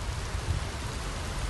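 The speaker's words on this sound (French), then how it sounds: "le crépitement de la pluie nocturne" Steady night rain pattering on surfaces, a dense even hiss with soft low rumble throughout, no voices.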